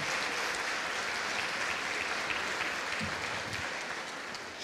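An audience at a national catechists' gathering in Ambato applauds a bishop with sustained, even clapping that holds steady and then begins to fade slightly toward the end.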